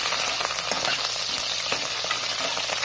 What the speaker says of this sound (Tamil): வெங்காயம், கருவேப்பிலை போட போறேன். இதை நல்லா எண்ணெயில நல்லா வதக்கிச்சுங்க.